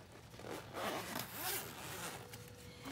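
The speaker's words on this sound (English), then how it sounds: "then you unzip it from this side" A zipper is drawn open along the side of a kids' travel tablet tray, a quiet, close, continuous rasping pull lasting a few seconds with no talk.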